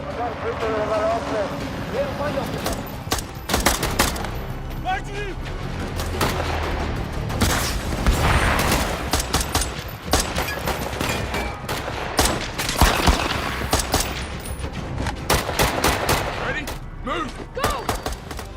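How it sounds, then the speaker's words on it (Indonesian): Gunfire and explosions in an action film crackle in rapid volleys with heavy booms, loud and chaotic, while a narrator speaks over the battle throughout. "karena anak buah Mukidi memiliki senapan RPG"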